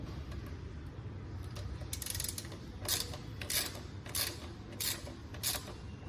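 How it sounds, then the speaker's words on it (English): Ratcheting wrench clicks come in short, evenly spaced bursts as bolts are tightened on a side stand extender for a Ninja 300 motorcycle, heard close over a low background hum. "So as you can see, the 4 bolts have been tightened."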